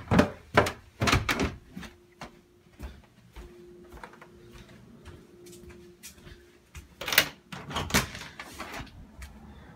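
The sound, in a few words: back door of a house opening and closing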